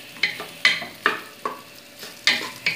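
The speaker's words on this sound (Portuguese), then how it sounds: "Aí deixa ela fritar um pouquinho." Diced sausage frying in a pan gives a steady sizzle, with a spatula scraping and stirring in sharp strokes about every half second. No talking.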